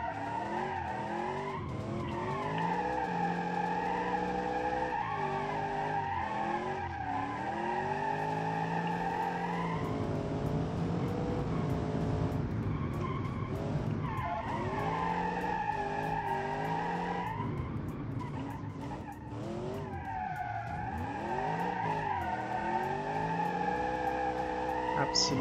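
A drift car in the Automation game slides through long, loud, wavering tire skids and squeals over a revving engine, the screeching rising and falling steadily throughout.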